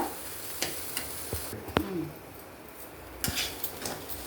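Roasted moong dal being stirred in a frying pan with a soft background sizzle, a few scattered utensil scrapes and clinks against the pan, and one sharper metallic knock near the middle.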